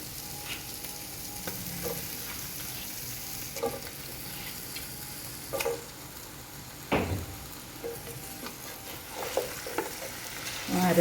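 Skin-on chicken pieces fry in a masala paste while being stirred, a soft, close sizzle with intermittent spatula scrapes and knocks against the pan.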